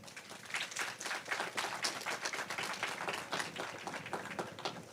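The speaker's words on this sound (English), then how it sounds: "let's give them a big round of applause" A graduation audience at Snow Hill High School claps in sustained, dense applause for the parents. Many overlapping handclaps form a steady wash that carries on for several seconds at moderate distance, with no voices over it.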